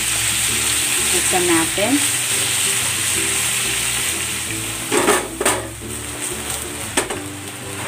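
Sukiyaki-cut beef sizzles as it fries in a hot pan, with steady crackling throughout, the scrape of stirring and a few clinks of utensil on pan, while a voice speaks briefly.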